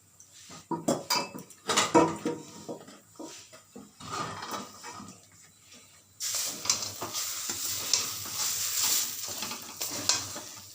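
Dhoka lentil batter is stirred in a pan with a metal spatula, giving irregular scraping clinks, followed by a steady sizzling hiss under the continued stirring.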